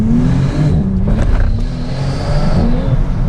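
A 626-horsepower, 2400 kg Bentley engine hums and revs steadily at close range, a continuous low mechanical drone with no voices.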